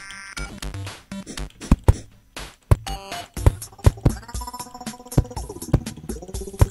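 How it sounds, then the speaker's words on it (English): Underground worm enemy in the video game Terraria, a quick run of choppy retro game blips and crunching hits bursting in irregular clusters, loud and close. "that's the sound of a underground worm"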